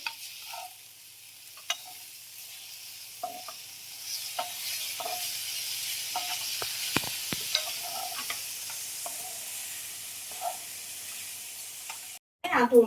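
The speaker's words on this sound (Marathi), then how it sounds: "इकडे भजे पण चालू इकडे गरम गरम मूग भजी आहे ही" Moong bhaji, mung lentil fritters, fry in a hot pan with steady oil sizzle while a utensil stirs them, giving scattered scraping clicks and knocks. No voices; a sharper clatter comes right at the end.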